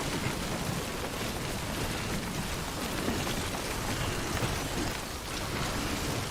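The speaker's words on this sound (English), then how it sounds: "Let rain lighten up a little bit." Steady rain pours in the Blade Runner (1997) video game, a dense continuous hiss of drops with a faint low rumble beneath, loud and unbroken with no voices.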